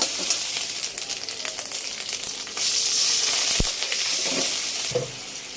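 Water goes into a hot pan where prawns and onion have been frying: a crackling sizzle swells partway through and stays louder, with a few knocks and scrapes of a utensil nearby.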